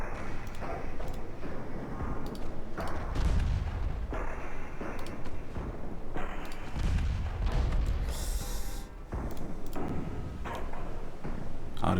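Light cruiser guns fire in a naval video game, heavy booming salvos rolling repeatedly over a constant low rumble of battle noise, moderately distant with no voices.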